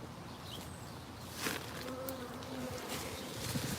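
Honeybees buzzing around an eight-frame hive on a sunny side, a soft steady hum close by with a few louder passes of individual bees.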